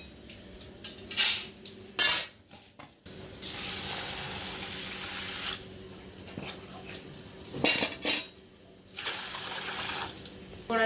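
Water poured over roasted moong dal in a kitchen to wash it, with a sustained gushing splash in the middle, brief clattering knocks of utensils before and after, close and moderately loud.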